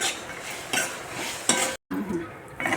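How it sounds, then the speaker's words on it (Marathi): Oil sizzles steadily in a wok as spices for matar paneer gravy are stirred, with a few louder scraping bursts and a brief gap of silence. "30 सेकंद आणखीन आपण फ्राय करणार"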